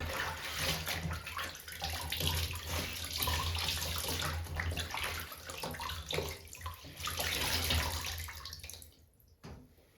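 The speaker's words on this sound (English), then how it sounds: "In the evening, I rinse them with hot water and a small amount of detergent." Hot water runs from a tap as used reusable cloth sanitary pads are rinsed with a little detergent, a steady close splashing stream that stops near the end.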